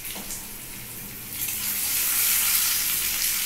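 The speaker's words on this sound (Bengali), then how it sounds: "দেখো পাঁচফোড়নটাও একটু ভাজা ভাজা হোক" Panch phoron whole spices frying in hot oil in a pan, a continuous close hiss and crackle that swells slightly partway through, with no voices.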